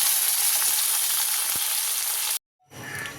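Pomfret frying in a kadai makes a loud, continuous close sizzle that cuts off abruptly, then returns more softly after a short gap of silence.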